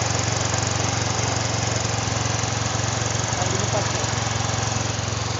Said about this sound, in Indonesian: Ini udah mau hidup, digas pun cuman agak telat ya gasnya.